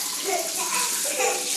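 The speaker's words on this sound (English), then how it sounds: "And you just wash your hands." Tap water runs steadily into a sink while hands are washed with soap, a close, continuous splashing rush with a little shifting texture, no speech over it.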